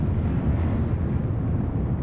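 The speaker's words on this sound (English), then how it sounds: "So we have switched off the jet engines and turned on the rocket engines." Rocket engines firing in Kerbal Space Program, a steady, dense low roar with a broad rumbling wash that holds evenly and loud throughout, with no voices over it.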